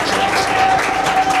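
Church congregation applauding, a dense, steady wash of clapping from many hands throughout the short moment.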